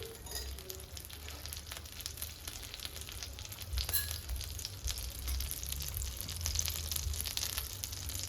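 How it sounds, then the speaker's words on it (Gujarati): Pav buns sizzle in oil and a spoon of butter on a hot tava for Mumbai-style street tava pav bhaji, a soft continuous crackling fry close by with faint scraping, no talking. "તવા ઉપર થોડું તેલ ઉમેરશું અને સાથે 1 ચમચી બટર પણ ઉમેરશું"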